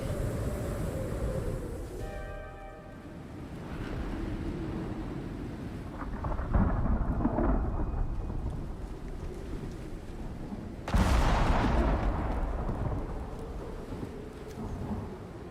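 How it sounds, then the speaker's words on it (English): A thunderstorm rolls in within the survival game Icarus: low, rumbling thunder swells and fades over wind and rain noise, with a sharper, louder crack near the end, and no talking. "Well, we'll wait for the thunder, and when it starts we head to the blizzard."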